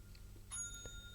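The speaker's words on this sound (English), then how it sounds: "Oh, there we go. We got a bell." A single bell rings brightly once with a short ringing decay, fairly faint against a quiet background.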